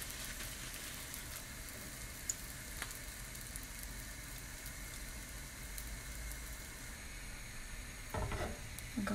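Sfenj, Moroccan dough fritters, frying in plenty of hot oil, giving a steady, dense crackling sizzle throughout, with a brief louder clatter near the end.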